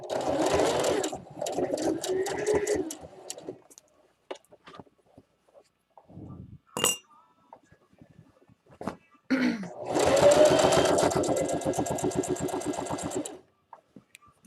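A sewing machine stitches thick fabric for an Easter basket, running in two steady, rapid bursts of needle chatter with a quieter stretch of light handling noises between them.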